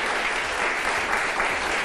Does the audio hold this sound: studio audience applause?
yes